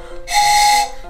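A single bright, steady whistle blast rings out for about half a second, loud and close, used to call a set of Thomas and Friends toy trains on a large play railway track.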